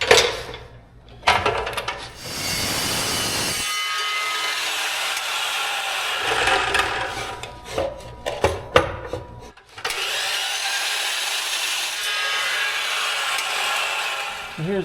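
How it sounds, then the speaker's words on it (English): A piece of 1/4 inch steel flat stock is cut for a frame part on a car being turned into a truck. Harsh, continuous cutting noise comes in loud bursts, broken by short pauses and a few clanks. "So we're going to cut a little piece of 1/4 inch flat stock for that tube to weld to on the frame"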